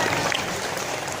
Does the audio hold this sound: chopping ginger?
no